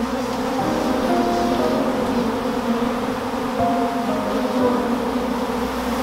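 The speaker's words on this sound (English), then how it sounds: "I've never been so covered in bees." Angry honey bees swarm thickly around an opened hive, making a loud, dense, continuous buzz with wavering pitch close by, and no one speaks.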